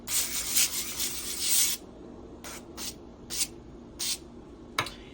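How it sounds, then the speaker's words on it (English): A long hissing spray from a pump bottle of extra virgin olive oil onto salmon, followed by several short, separate spritzes with quiet pauses between them. "Just gonna take some spray extra virgin olive oil. I'm going to spray it."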